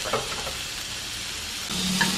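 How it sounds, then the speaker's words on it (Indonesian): Ground chicken is being stir-fried in a pan for fried rice. It sizzles and hisses steadily, with scraping stir strokes near the start and again toward the end. "ditumis hingga matang daging ayamnya"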